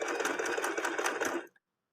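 An Usha sewing machine stitches zigzag embroidery in a rapid, rattling run of needle strokes, close and loud, then cuts off suddenly into silence.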